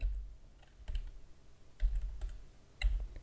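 Typing a command on a computer keyboard: a few soft, separate key taps spaced about a second apart, close and quiet, with no talk.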